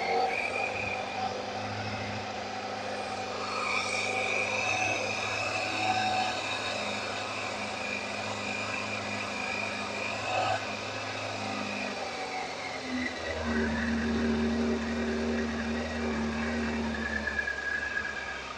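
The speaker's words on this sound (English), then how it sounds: "lovely quiet engine on this." A Yamaha Fazer motorcycle idles after a cold start with choke on, a steady, smooth hum continuing throughout, with a slight shift in pitch partway through; no talking.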